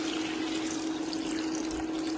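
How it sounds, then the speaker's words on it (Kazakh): Water poured steadily into a small cooking pot on the stove for about two seconds, a continuous close rushing splash with no talking. "суды жіберейін деп тұрмын"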